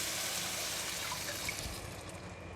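Crab curry gravy mix with egg poured into a hot pan, a steady hissing, liquid rush that eases slightly toward the end.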